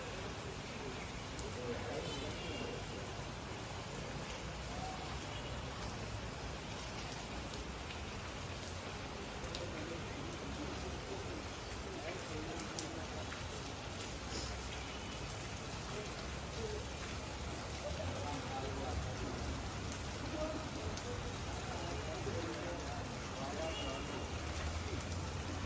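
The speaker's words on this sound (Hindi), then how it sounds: "अभी ज़्यादा नहीं है, अभी थोड़ी कम हो गई है, लेकिन बारिश चालू ही है।" Steady rain falls without pause, a dense, even hiss of drops spread across the whole range and holding at a constant moderate level throughout, with faint speech underneath in places.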